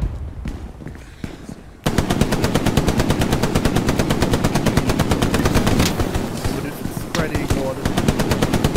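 Automatic rifle fire from the M1918 Browning Automatic Rifle in the Hell Let Loose video game: after a quieter opening, a long rapid run of close, loud, evenly spaced shots hammers on for several seconds, with brief pauses between bursts.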